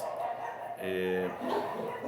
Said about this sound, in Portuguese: os cachorros falando